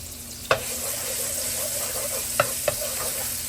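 Garlic fries in a pan for pancit bihon with a steady, even sizzle, broken by a few sharp clicks like a utensil tapping the pan. No one speaks.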